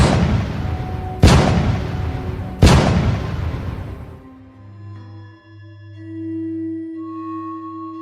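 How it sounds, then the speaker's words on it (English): Three distant cannon shots in a video game: sharp booming reports over a rumbling background, followed by steady tonal hums and beeps. "3 cannon shots can be heard in the distance."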